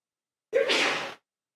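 A single sharp sneeze, loud and close, in an otherwise quiet moment at a city council meeting.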